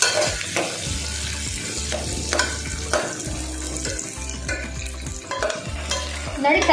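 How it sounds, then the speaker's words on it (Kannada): Carrot and beans frying in oil in a pan, stirred with a steady, rhythmic scrape over a continuous sizzle, close and fairly loud with no talking. "ತರಕಾರಿ ಎಣ್ಣೆಯಲ್ಲಿ ಚೆನ್ನಾಗಿ ಫ್ರೈ ಆಗಿದೆ."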